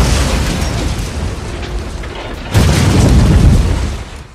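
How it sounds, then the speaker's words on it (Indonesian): A gas cylinder explodes inside a burning trailer in a film scene, a loud sustained roaring blast that swells sharply midway and then fades. "Sampailah kobaran api ke tabung gas. Sylvia yang mencoba memanggil ibunya pun terlambat, sehingga terjadilah ledakan besar di trailer tersebut."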